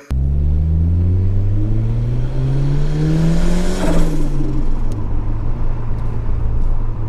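A 1987 Ford Sierra Cosworth RS500 engine pulls hard from inside the car, revs climbing steadily for several seconds before easing back into a steady, loud cruising drone with rumble.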